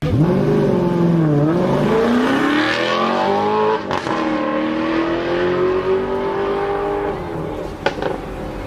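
An Alfa Romeo 8C sports car engine revs loudly and steadily, its pitch climbing and then holding as it drives close by, with brief mechanical clicks.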